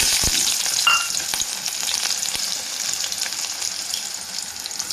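Onion and fenugreek seeds frying in hot oil for a drumstick-leaf curry, a steady bright crackling sizzle with a few sharp pops and a brief clink early on, close and continuous with no voices.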